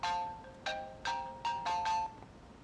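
A phone ringtone for an incoming call: a short melodic chime that repeats in about five quick bursts, fairly quiet and alone with no talk.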